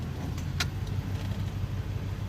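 A 2001 Ford Explorer with a 5.0L V8 idles with a steady low rumble while the transmission is shifted through gears, a brief click and jangle sounding over the engine.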